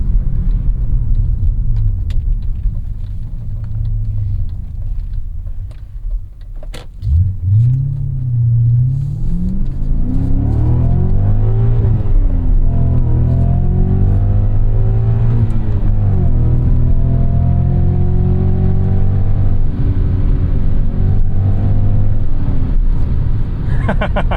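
A 2001 BMW M5 E39 V8 engine revs up hard from a low idle rumble, rising and falling through several strong throttle blips that run loud and close for most of the stretch.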